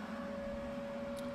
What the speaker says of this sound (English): I'm gonna go ahead and turn on the vacuum.